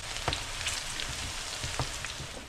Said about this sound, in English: you don't want to overcrowd it because it'll steam up the veggies without frying them